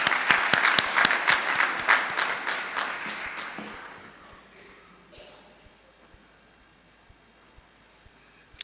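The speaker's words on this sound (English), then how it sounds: "Hand of applause, please" Applause from the audience at a senior citizens sector parliament sitting, loud, brisk clapping at the start that thins and fades out over a few seconds, leaving quiet room tone with a few scattered late claps.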